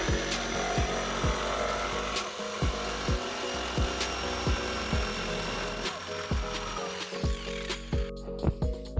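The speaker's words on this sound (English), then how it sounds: "then I proceed to use my jigsaw after drawing a line across of the piece that I would like to remove" A jigsaw cuts through a wooden piece for an Anthropologie dupe furniture build, making a loud, continuous buzzing rasp with regular rhythmic pulses of the blade stroke throughout.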